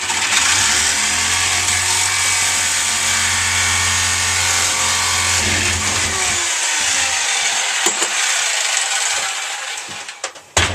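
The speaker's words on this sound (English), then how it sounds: "I love my jigsaw." A jigsaw cuts metal in a home garage, a loud, steady buzzing rasp of the reciprocating blade that runs continuously for several seconds and then slows and fades out, ending with a few clunks.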